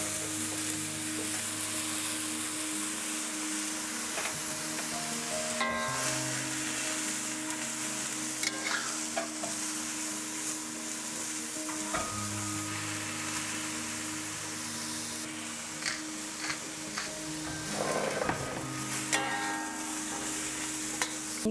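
Vegetables for home-style yakisoba stir-frying in a hot pan, a steady loud sizzle with occasional scrapes and stirring clatters throughout, no talking.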